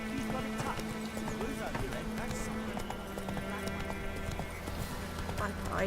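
Steady horse hooves clip-clop through the clip amid ambient music in The Witcher 3 video game, with a brief whinny and someone talking over it.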